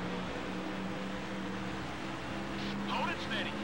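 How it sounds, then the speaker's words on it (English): A race car engine drones steadily in the NASCAR Thunder 2004 video game during an oval race, a continuous loud hum from the player's car with a faint burst from passing cars, while someone talks over it. "now the engine just sounds loud"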